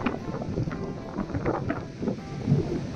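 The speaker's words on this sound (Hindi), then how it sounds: "अब यहाँ पे जो 100-200 किलोमीटर की रफ्तार पे हवा चल रही है, कहने का मतलब समझिए बहुत तेज हवा है" Strong mountain wind in the Harsil valley of Uttarakhand, buffeting the microphone in loud, irregular gusts with low rumbling blasts for a few seconds, no voices.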